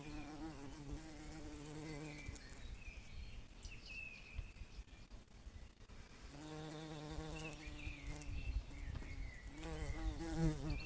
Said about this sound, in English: Look at that lovely bee.